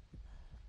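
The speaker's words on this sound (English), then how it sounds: "But I hear a heartbeat" The Dead by Daylight killer's heartbeat warning thumps faintly, two low, muffled beats in quick succession.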